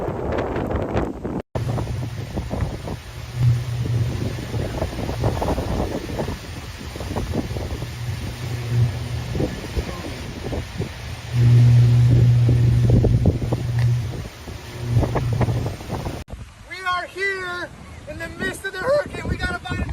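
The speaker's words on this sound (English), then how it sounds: "With sustained wind speeds reaching 155 miles per hour, Hurricane Ian created waves and wind" Hurricane Ian's wind batters the microphone with steady roaring gusts and surging waves along the Naples, Florida shore for most of the stretch, partly under narration, before cutting abruptly to a quieter scene.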